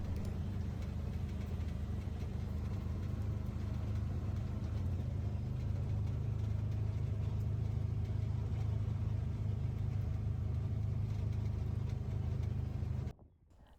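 A Can-Am utility vehicle drives through a pasture, its engine a steady low rumble and drone held close and continuous for about thirteen seconds before cutting off abruptly.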